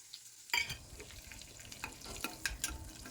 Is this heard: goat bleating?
no